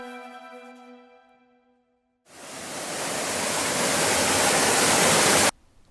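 A waterfall's steady roar of rushing water in the film War of the Ninja Monsters, loud and continuous, rising slightly before stopping abruptly; preceded by a fading tonal hum.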